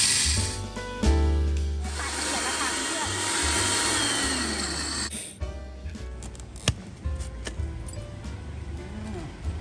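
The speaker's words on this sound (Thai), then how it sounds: "ปั่นให้เล็กและละเอียดเลย" A kitchen blender grinds plant ingredients into a fine powder for a garden pest-repellent mix, roaring loudly and steadily before the motor cuts and grinding rattles follow, with a voice in Thai.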